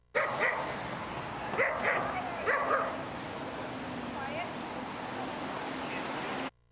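A dog barks and yips in short bursts amid a noisy outdoor crowd at a protest against a Ringling Bros. circus at an arena in Cleveland, with steady background din throughout.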